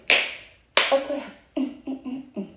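Hands clapping in a short home workout, two sharp claps followed by a quicker run of four softer claps, close and loud with no talk.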